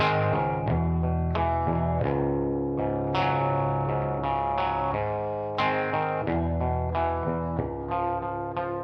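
An electric guitar played through a Boss DS-1 distortion pedal with about 30% reverb, picking a run of distorted notes and chords, each attack ringing out with a reverberant tail, loud and close.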